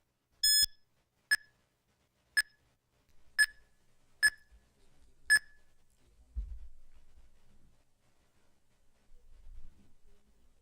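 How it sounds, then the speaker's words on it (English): Quiz competition buzzers pressed by teams, a series of six sharp electronic beeps spaced about a second apart, each bright and clipped, followed by faint low rumble and room noise. "2 teams have already pressed the buzzers"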